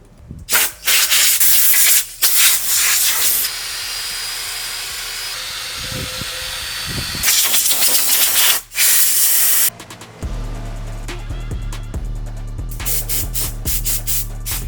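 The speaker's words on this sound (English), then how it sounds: "I'm wiping them down with some acetone and just cleaning them up before painting." An acetone-soaked rag rubs over Honda/Acura suspension knuckles, giving loud, close scrubbing and hissing bursts that start and stop in strokes, with quieter gaps between them.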